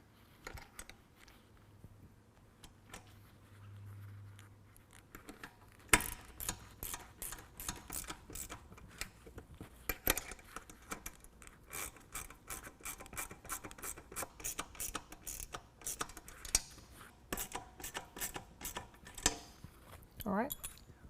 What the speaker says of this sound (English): So we're going to hold it with a 10 millimeter down below and tighten it up with a 10 millimeter up top.